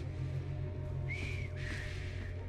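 Two short whistled notes in the game Assassin's Creed Syndicate, the second slightly longer and falling, sounding over a constant low background hum.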